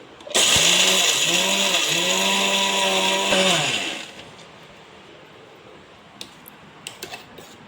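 A kitchen mixer grinder grinds cardamom and sago into powder, giving a loud, close, high whirring whine with a slight pitch wobble for about three and a half seconds before spinning down to a quiet room.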